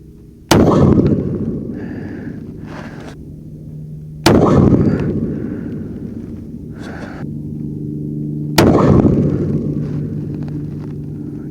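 A Sig Cross rifle chambered in 300 PRC and fitted with a muzzle brake fires three loud, sharp shots at steady intervals of about four seconds. Each blast is close and booming, with a long rumbling decay between shots and no talk.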